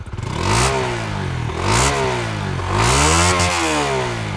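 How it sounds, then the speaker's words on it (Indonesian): Honda CB150X motorcycle engine revved hard several times, exhaust note climbing and falling in repeated throttle blips, loud and close with a raspy edge and no talk. "Coba kalau digeber, coba geber."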